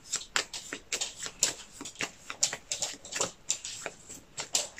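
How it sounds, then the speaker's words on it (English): A deck of board game cards is shuffled close by, a steady run of soft riffling flicks and patters with no talking. "Shuffle the deck."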